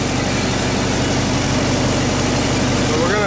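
A Lincoln SA-200 welder engine idles steadily, a loud, continuous low rumble close by with no break across the span.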